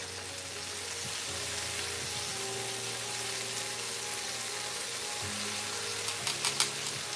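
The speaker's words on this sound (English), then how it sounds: "we sizzling, baby" Steady, dense crackling sizzle of food frying, continuous and fairly loud, with a few sharper pops near the end and a low hum underneath.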